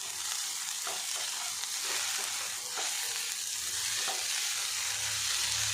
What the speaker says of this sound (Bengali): গুঁড়ো মশলা দিয়েছি, কিছুক্ষণ নাড়াচাড়া করে নেব।